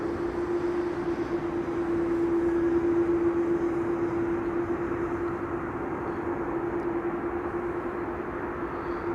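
A United airliner approaches Schiphol Airport, its engine roar a steady, even drone holding throughout with a strong low hum and no voices.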